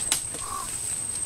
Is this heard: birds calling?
yes